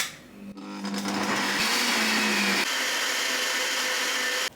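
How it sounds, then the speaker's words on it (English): A kitchen blender running loudly and steadily for several seconds, a dense whirring roar that starts abruptly and shifts pitch partway through as the contents blend, with no talking. "this part always freaks me out and is why I avoid using the blender because it's so loud."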